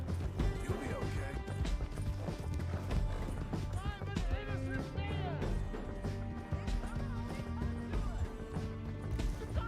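Horse hooves pound and a horse whinnies in a video game, mixed with crashes and a busy game soundtrack, fairly loud and continuous throughout.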